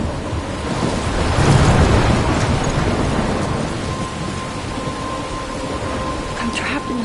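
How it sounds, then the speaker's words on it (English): A thunderstorm in the Life is Strange video game, with loud rolling thunder swelling over steady heavy rain and wind, with no talk. "I'm trapped in a storm?"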